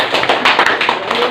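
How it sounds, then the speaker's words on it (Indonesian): Classroom applause for a student group after their presentation on social media use, a dense burst of many hands clapping close by, steady and fairly loud for its short length. "Berikan tepuk tangan untuk kelompok Matius."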